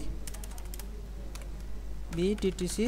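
Keys on a computer keyboard are tapped in a quick burst of clicks as letters are typed into a word-processing document, followed by a person talking over the last keystrokes.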